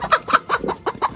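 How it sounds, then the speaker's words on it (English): Chickens in a group of about fifteen cluck in a quick series of short, close calls, six or so bursts over a second with no talking. "You guys, look at all these chickens just chilling."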